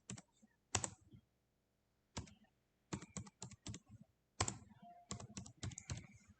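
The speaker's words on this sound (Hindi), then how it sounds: "टाइप कर देती हूँ।" Typing on a computer keyboard in bursts of clicky keystrokes, close and clear, with short pauses between runs of keys while numbers are entered into an Excel spreadsheet.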